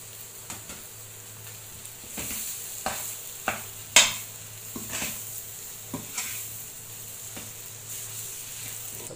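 Potatoes being stirred into masala frying in a pan for aloo paratha, with a steady sizzle under scattered scrapes and clinks of a spoon against the pan, close up and without speech.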